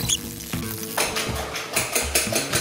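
Egg whites whisked first for a Spanish potato tortilla, a quick steady beating in a bowl with short scraping strokes, close and continuous with no talking.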